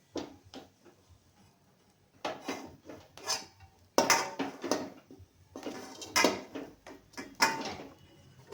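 Close, intermittent clinks and scrapes of a metal spoon against a pot as food is scooped in, in short irregular bursts with pauses.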